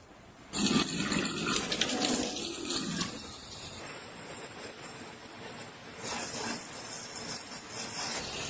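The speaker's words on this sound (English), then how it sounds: "I will now get the water and test it myself." A tap running water in a care setting, a soft hiss that starts suddenly, steady and fairly quiet, shifting in tone as the stream changes, with no voices.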